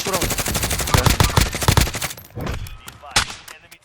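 Video game gunfire in Call of Duty: Warzone: rapid automatic bursts crackle loud and close. They thin out into scattered single shots near the end, and a voice can be heard faintly in the mix.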